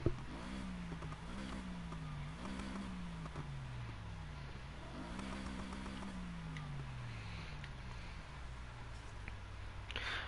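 A BMW M3 engine in Need for Speed Heat revs and climbs through repeated gear shifts, each pitch rising, dropping and rising again, then settles into a steady drone. The sound is continuous and close, with no talk.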